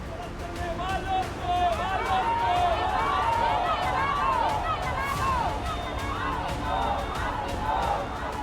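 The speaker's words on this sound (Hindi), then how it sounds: "आक्रोशित भीड़ ने थाने का घेराव कर जमकर हंगामा किया" An angry crowd surrounds a police station in protest, a dense roar of many overlapping shouting voices, loud and sustained throughout.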